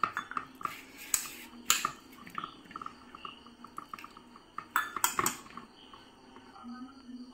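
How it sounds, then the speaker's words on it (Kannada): Metal utensils clatter and scrape in a pot while mixing in added water, with sharp clinks scattered over several seconds and faint liquid sounds between them, some voice in the background. "ಇದಕ್ಕೆ ಸ್ವಲ್ಪ ನೀರನ್ನು ಹಾಕಿ ಮಿಕ್ಸ್ ಮಾಡುವ."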